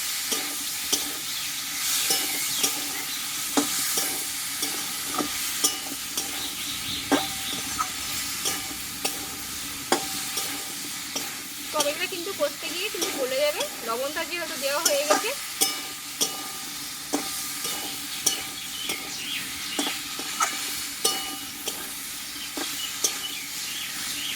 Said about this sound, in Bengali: এই মশলাটা টমেটো দিয়ে একসঙ্গে ভালোভাবে কষিয়ে নেবো